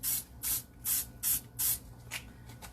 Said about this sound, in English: So we're going to spray our loaf pan, or you can grease it by hand